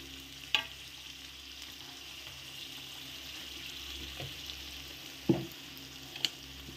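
Spices and turmeric frying in a pan give a steady, moderate sizzle, with a few sharp clinks of a spoon stirring at scattered moments, close up and without speech.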